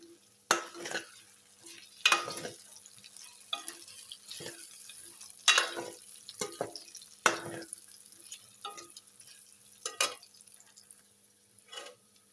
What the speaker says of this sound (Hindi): प्याज और लहसुन को अच्छी तरह से ऑयल में फ्राई कर लिया है।